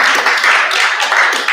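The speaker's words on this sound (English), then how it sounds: "And everybody else agrees should be clapping." An audience at an annual meeting claps, brief and fairly close, a dense patter of hands lasting about a second and a half.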